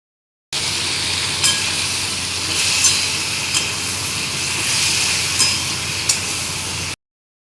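Potatoes fry for aloo posto, a potato and poppy seed dish, in a steady close sizzle with a few sharp clinks of stirring scattered through, and no talking.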